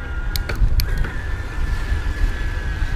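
The electric motor of a Bulls Iconic Evo TR 1 e-bike whines steadily at high RPM on an uphill climb through a neighborhood, a thin constant tone over rumbling road and wind noise.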